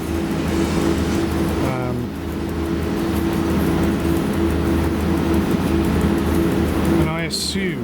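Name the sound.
train driving in SimRail video game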